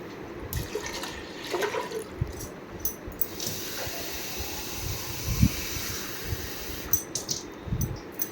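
Two glasses of water pour into a pressure cooker while cooking moong dal, giving a steady, soft rushing and splashing with small knocks and thumps, close and fairly quiet.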